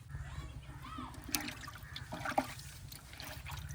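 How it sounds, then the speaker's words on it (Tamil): Tamarind water mixed with chili powder is poured into a village-style murrel fish curry, giving a soft, low trickle and splash that sits under faint background voices. "மிளகாத்தூள் கரைச்சி வச்ச புளியோட ஊற்றிக்கிறோம்"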